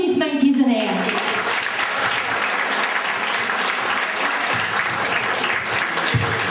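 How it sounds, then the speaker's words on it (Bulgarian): Concert audience breaking into sustained applause for a folk singer joining the show, broad and even clapping from a full hall right after a brief spoken introduction. "Аплодисменти за нея!"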